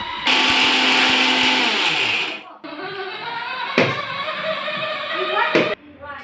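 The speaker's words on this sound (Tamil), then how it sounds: "நம்ம எல்லா பொருட்களையும் போட்டு மிக்ஸி ஜாரில் அரைச்சிட்டோம்" A mixer grinder grinding spices, including turmeric, whirs loudly at high speed, then stops and restarts in short bursts, its motor winding down between runs.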